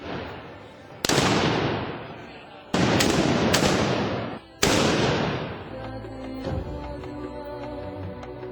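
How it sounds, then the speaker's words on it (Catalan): Shotgun blasts fired at dawn to wake the town during a festival in Centelles, Catalonia: four loud, sharp reports with long echoing decays, spaced irregularly, then quieter ambient murmur. "A la sortida ja es poden sentir les primeres escopetades per despertar el poble"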